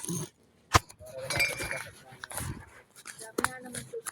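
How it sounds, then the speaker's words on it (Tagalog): Glass bottles clink sharply now and then as they are counted, under a person talking and a dog whining nearby. "Ayan, bote na lang binibilang."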